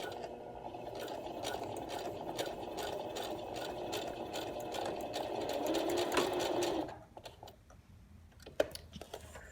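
A sewing machine stitches a messenger bag in a rapid, even run of needle strokes lasting several seconds before it stops, leaving faint handling noises.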